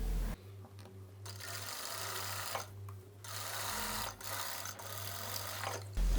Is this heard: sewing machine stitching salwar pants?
yes